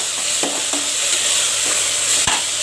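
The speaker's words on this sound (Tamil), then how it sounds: "ஆட் பண்ணிவிட்டு நல்லா கலக்கி வச்சுருக்குங்க" Ginger garlic paste and tomato stirred in a hot pan for egg biryani, with a steady sizzle broken by a few scraping strokes of the spoon, close and alone.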